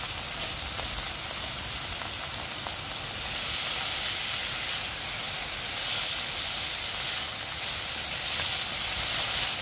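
A pan of bitter gourd curry steams and sizzles on a medium-low flame with the lid off, giving a dense, continuous hiss that stays loud and even, with no talk.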